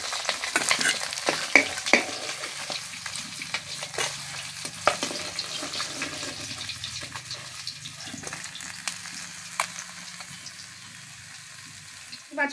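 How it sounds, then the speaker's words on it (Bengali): Tilapia pieces fry in oil with a moderate sizzle, punctuated by spatula knocks and scrapes against the pan as they are turned, fading quieter toward the end. "মাছগুলো ভেজে নেব।"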